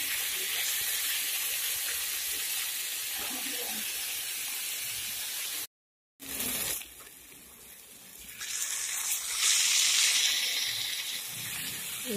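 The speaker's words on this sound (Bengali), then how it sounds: "সবগুলো একসাথে ভালো করে ভেজে নেব।" Boiled moucha frying together with dried shidol fish in a pan gives a steady loud sizzling hiss that breaks off briefly, returns softer, then swells to a stronger crackling burst before easing again, with no talk.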